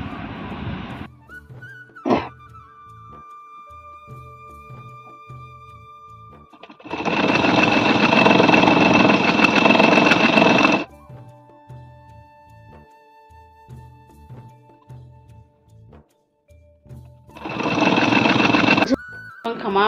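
A domestic sewing machine runs in two loud, steady bursts of rapid stitching, with a quieter stretch between them holding a few thuds and a faint background hum.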